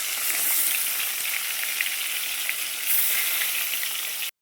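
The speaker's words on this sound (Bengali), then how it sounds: "এখন মাছগুলো ভেজে নেবো।" Pieces of fish fry in very hot oil with a bright, constant hissing sizzle and scattered pops, close and loud with no voices, ending abruptly.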